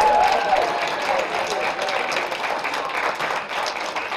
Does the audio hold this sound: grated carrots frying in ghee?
no